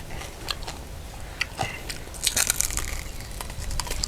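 Bites into crispy pork som tam outdoors in a rice field, close crunchy chewing with sharp crackles and snaps that grow denser toward the end, no talk.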